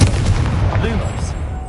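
The Confringo spell goes off in Hogwarts Legacy as a sharp blast followed by a rumbling explosive tail. It is loud and close, over a low ambient background.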